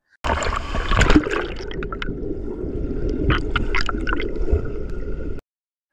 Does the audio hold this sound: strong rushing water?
yes